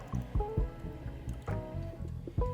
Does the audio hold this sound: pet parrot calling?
no